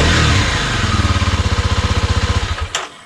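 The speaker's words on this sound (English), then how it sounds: "bike will start" A Kawasaki KLX 300R dirt bike engine cranks over in neutral with a fast, even pulsing beat, close and loud, then sputters and cuts out with a short clatter near the end.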